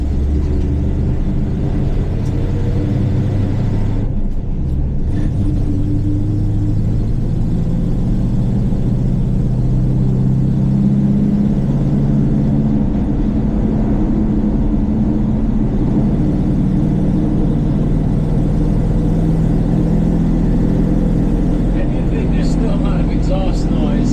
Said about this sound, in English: Exhaust noise. A little bit of a manifold leak on the passenger side.